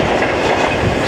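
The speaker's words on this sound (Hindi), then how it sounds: "फोर्टीन डाउन अवाम एक्सप्रेस पहुंच गई है कैंट स्टेशन।" The Awam Express passenger train pulls into Cantt station as a loud, steady rumble of rolling wheels and carriages, close by, with no voices over it.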